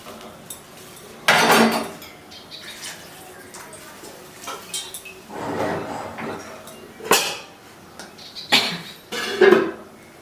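A lid goes onto a pot of cauliflower and potatoes, with metallic clanks and clatters in several separate bursts, close by, amid quiet kitchen background.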